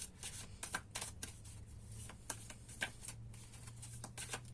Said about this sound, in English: So let's continue to shuffle and see what else.